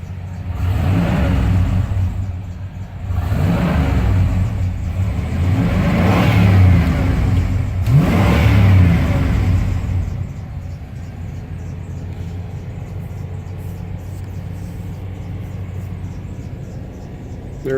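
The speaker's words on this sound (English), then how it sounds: "Let me rev the engine while I'm in here" A Chevy G20 van engine revs up close three times in a row, each rise a throaty surge that falls back, then it settles into a steady, lower idle for the rest of the clip.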